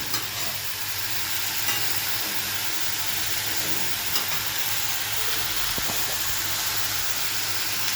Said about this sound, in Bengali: এবার বেশ ভালোভাবে মিশিয়ে দেবো শাপলার সাথে